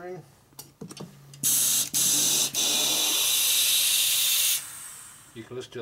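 Air hisses loud and steady for about three seconds as a motorcycle wheel inner tube is inflated on a 1942 Harley-Davidson WLA 45ci star-hub wheel being rebuilt, preceded and followed by brief handling clicks and rustles.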